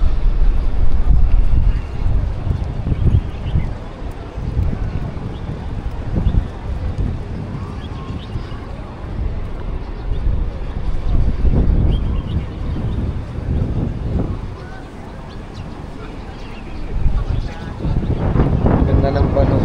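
Strong gusts of wind at Ngong Ping, Hong Kong, buffet the microphone in heavy, uneven rumbles while people talk.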